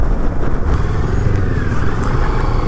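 A Moto Morini X-Cape 650 adventure motorcycle is ridden at around 100–120 km/h, and its steady engine drone sits under a heavy, constant roar of wind. No one speaks.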